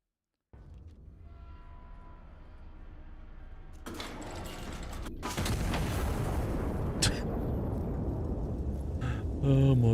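A heavy turret gun fires in Iron Nest, a steady mechanical hum that swells into deep, rumbling booms and a loud sustained roar, growing heavier toward the end.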